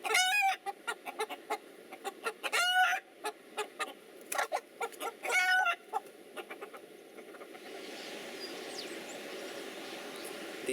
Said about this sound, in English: I wish I was as awake as these chickens are right now.